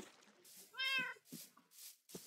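A cat in the Minecraft video game lets out one clear, close meow, with soft clicks and short game sounds before and after it.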